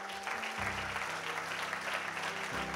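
In church a congregation breaks into loud, sustained applause and acclaim, with a low musical drone sounding underneath the clapping the whole time.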